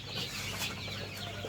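Young chickens, Colombian Brahma around one and a half to two months old, clucking faintly on a farm amid a steady hiss of background noise, with no voices.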